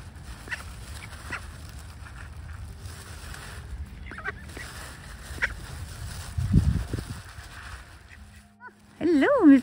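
Mallard ducks call while being fed, sending out scattered quacks and honks alongside crows and a seagull outdoors, with a louder burst near the end and people talking in the background.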